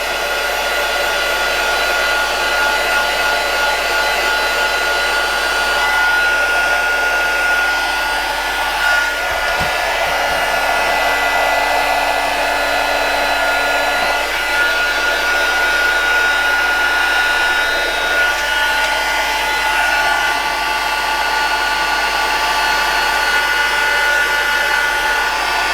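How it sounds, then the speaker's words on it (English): A heat tool blowing hot air, running continuously at close range with a loud, steady whirring hiss, briefly bumped partway through. "Heat tool."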